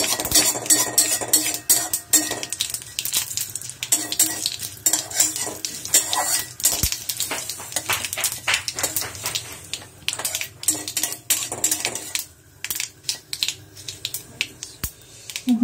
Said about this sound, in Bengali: লো ফ্লেমে রেখে এটা 2 মিনিটের জন্য আমি একটু ভাজা করে নেব।